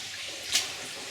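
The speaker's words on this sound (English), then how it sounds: "Water's coming around this one side of the dam, but there's more water falling back here." Steady rushing of water falling behind a collapse dam inside the flooded Oak Creek Mine, soft splashy hiss, one slightly louder splash midway, continuous throughout.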